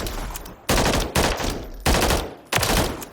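XM8 rifle fire in Call of Duty Modern Warfare III comes in four loud, sharp automatic bursts, each lasting about half a second, separated by short pauses.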